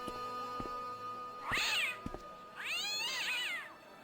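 A cat in the point-and-click adventure game Broken Sword: Shadow of the Templars gives two clear, drawn-out meows, the second longer, set against quiet background music and a couple of soft clicks.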